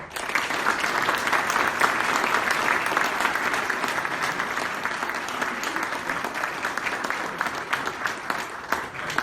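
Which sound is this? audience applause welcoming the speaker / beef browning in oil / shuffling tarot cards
audience applause welcoming the speaker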